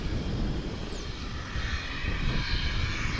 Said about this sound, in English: Here's a flight coming in over on the east side from LaGuardia Airport in the New York City area.